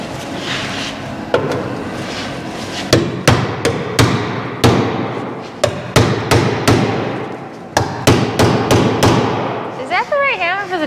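Sharp metallic hammer blows strike a rusty car body panel during rust repair, a dozen or more close, loud impacts in an irregular rhythm, with a brief voice at the end.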